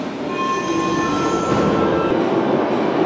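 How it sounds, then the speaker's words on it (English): A Moscow metro train at Dostoevsky station rumbles steadily with a high squealing whine from the wheels, loud and close, with no voices. "this is Dostoevsky station, the most depressive station of Moscow metro, of Moscow underground"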